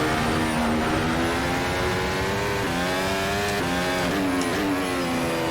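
A Formula race car in the rFactor 2 sim racing game accelerating hard, its high engine note climbing steeply through repeated gear changes, loud and continuous with no talk.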